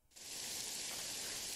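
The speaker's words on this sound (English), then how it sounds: "And it's raining." Rain sets in within the video game Jagged Alliance 3. It starts abruptly as a dense, hissing wash of droplets and holds at an even, moderate level with no voices.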